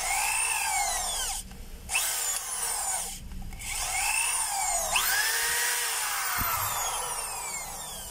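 An electric drill, fitted with a new chuck, carbon brushes and cord protector, whines steadily at close range, its pitch sweeping down and back up as it is briefly stopped twice and restarted, then running on alone.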